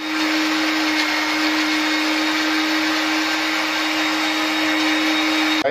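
An electric blender grinds eight to ten green chillies in its jug with a loud, constant high whine and an even buzzing roar that runs unbroken throughout, then cuts off abruptly at the end.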